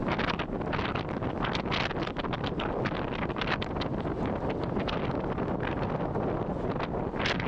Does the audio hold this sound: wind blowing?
yes